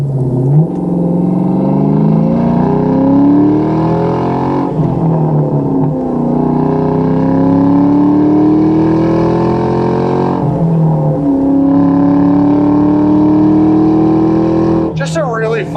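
A 2003 Ford Mustang Mach 1 with a 4.6 V8 and five-speed manual pulls through the gears from inside the cabin, its engine note rising steadily, then dipping at each of several upshifts and downshifts, loud and continuous.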